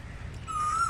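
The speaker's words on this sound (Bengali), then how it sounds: "ঠিক গাছের মাথার উপর কোকিলটা ডাকছে" An Asian koel calls from the top of a tree beside a lake with lotus flowers. The single high call rises faint and slightly distant over quiet outdoor background noise.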